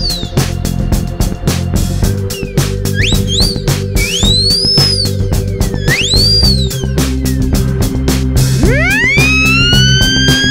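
A coin whistle's rising and falling tone wails like a small siren, sweeping up and down in pitch over a steady rattling, whirring background.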